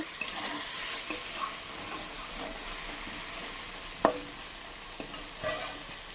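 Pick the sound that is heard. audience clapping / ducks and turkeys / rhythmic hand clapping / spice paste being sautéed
spice paste being sautéed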